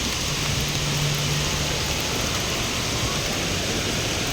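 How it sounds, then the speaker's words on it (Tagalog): Steady rain falls in a constant broadband hiss in cold weather in the Marilaque highway area, close and even throughout, with a faint low hum briefly underneath. "Ulan."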